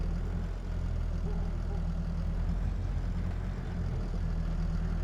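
Fendt tractor engine idling in Farming Simulator 22, a steady low rumble holding at one level throughout with no talking.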